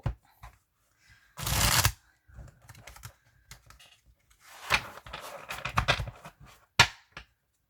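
Tarot cards being shuffled by hand, a short dense riffle burst followed by a longer run of soft shuffling flicks and a final sharp snap, close and alone.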